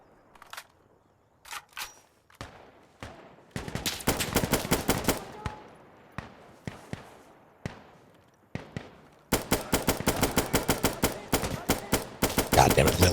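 Gunfire in the video game Insurgency: Sandstorm comes as scattered single shots and then rapid automatic bursts, loud and near, with short pauses between strings of cracking reports.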